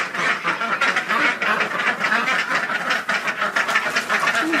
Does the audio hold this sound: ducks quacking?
yes